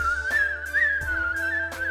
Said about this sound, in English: the man who is able to whistle in ways you've never heard anybody do